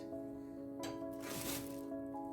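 Carrot and beetroot juice pours and squishes through a strainer in a short wet burst, soft and close against a faint background hum.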